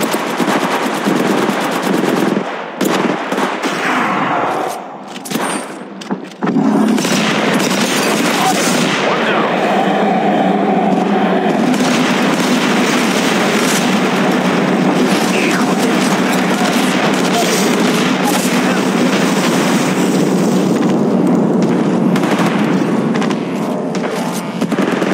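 Apex Legends Mobile gunfire hammers in dense, rapid bursts of automatic shots with heavy booms, continuing almost without pause at close range and high volume, with brief lulls early on and voices under the clamour.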